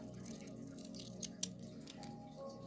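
Wiggle Craft scissors snip through nail polish strips in two or three short, close clicks against a quiet background.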